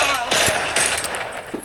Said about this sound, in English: I was killed by a guy with a pistol.